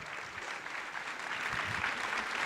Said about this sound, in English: Let's give her a round of applause one more time.